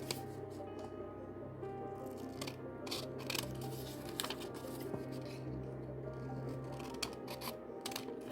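Scissors snip through printed digital paper while a journal is being made, a close, steady string of crisp cuts and rustles over the full stretch with a faint room hum behind.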